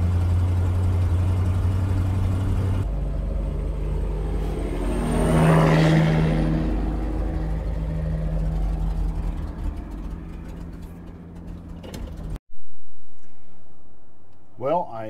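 A 1979 Chevrolet C20 truck engine at low, steady revs while driving slowly, a low rumble under ongoing talk, cutting off near the end.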